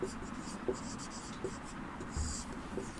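Pen or chalk writing during a Hindi lesson, several soft, evenly spaced scratchy strokes under low, murmured speech.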